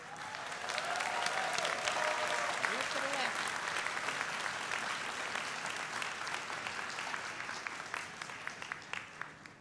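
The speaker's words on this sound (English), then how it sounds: "I invite you to turn your tassels to the left as we applaud your astounding efforts" Sustained applause from a commencement audience honouring new graduates, a dense wash of clapping that holds steady for nearly ten seconds and thins toward individual claps at the end, with a few cheering voices mixed in.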